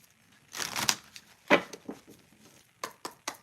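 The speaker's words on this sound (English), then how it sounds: "The cards don't even want to shuffle." Tarot cards are shuffled in a few rough papery bursts, close and soft with uneven pauses between riffles and taps, and no talking.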